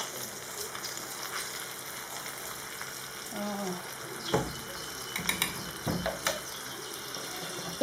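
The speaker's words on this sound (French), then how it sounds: "je vais laisser mijoter de ce côté-là et après je vais le tourner à l'autre côté" A lamb and courgette tajine with tomato simmers in its pot, a soft steady bubbling sizzle with a few clinks and knocks of handling in the later part.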